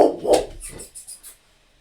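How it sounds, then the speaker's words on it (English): Dog barking up close, starting with a couple of loud barks and trailing off into a few softer, shorter yips. "You almost didn't bark."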